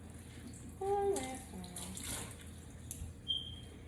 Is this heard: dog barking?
no